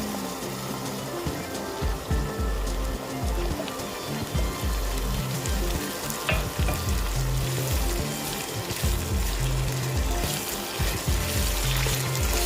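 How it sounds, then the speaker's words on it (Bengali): Small chopped potatoes for a whole-wheat momo filling sautéing in a pan, a dense continuous sizzle with clattering stirring beneath it, steady and close, with music playing throughout. "আলুগুলোকে ভালো করে সটে করে নিতে হবে, যাতে নরম হয়ে যায়।"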